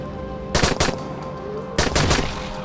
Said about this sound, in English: Whoa, it's a burst fire, okay.